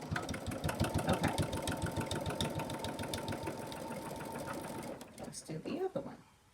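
A sewing machine back stitching a leather clutch wallet runs in a fast, even needle rhythm for about five seconds, close up and fairly quiet, then stops with a few handling clicks.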